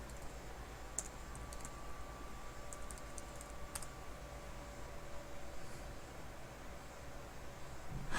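Faint keystrokes from commands being typed on a computer keyboard, a few scattered clicks over a steady background hiss, with no talking.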